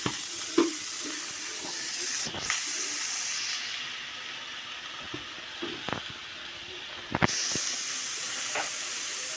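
Onions and chillies sizzle and hiss in a hot pan for an egg curry, a steady close frying sound broken by occasional scrapes and knocks of a spoon stirring.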